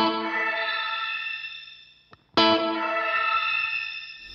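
Neunaber Seraphim shimmer reverb pedal at full settings, a dense shimmering wash of stacked high harmonics that swells, briefly drops out to a near-silent gap with a sharp click, then blooms back loud and sustained.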